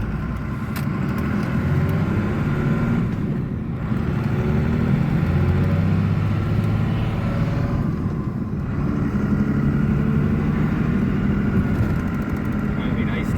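A 12-valve diesel truck engine idles steadily through a cold warm-up, its low rumble continuous and close, with people talking over it.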